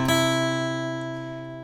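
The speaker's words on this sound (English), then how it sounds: "our third section will just alternate between the 5th string and the 1st string" A guitar alternating single notes between the 5th and 1st strings, ringing out as one clear plucked note that sustains and slowly fades, close and alone.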